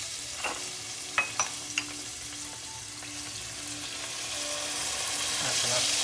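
Onions and tomatoes fry in a pan over medium heat, a steady close sizzle with a few sharp clicks and scrapes of a utensil early on, the frying swelling slightly louder toward the end.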